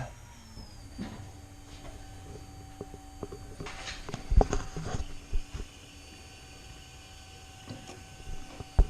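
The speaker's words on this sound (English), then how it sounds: "we're going to turn the fuel pump on" An electric fuel pump primes on a 408 Clevor engine, a faint, steady mechanical hum with a few soft clunks and rattles scattered through it.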